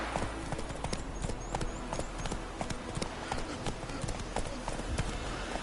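Roach, a horse in The Witcher 3, trots with a steady, rhythmic clip-clop of hooves, fairly quiet and continuous under game ambience with faint bird calls.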